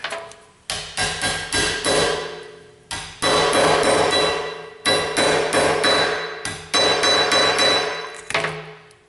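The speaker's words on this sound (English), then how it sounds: "if you're a little bashful about hitting your sockets with a hammer" Repeated metal hammer strikes on a socket, tapping a front wheel bearing hub assembly onto a Chevy or GMC, ringing out in bursts, loud and close, with sharp clanging taps and short pauses between groups of blows.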